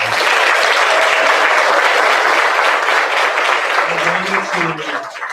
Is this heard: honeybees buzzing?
no